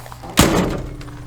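Car door latch closing after a repair with a newly made spring: one loud, solid slam close by, with a short ringing decay afterward.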